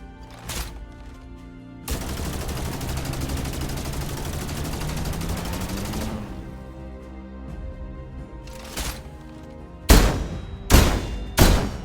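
A cannon's ultimate ability fires in the video game Empyreal: a sustained rattling barrage of rapid blasts for several seconds, separated from other sharp bursts, ending in three loud, heavy booms in quick succession.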